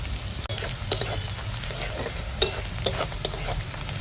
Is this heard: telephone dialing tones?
no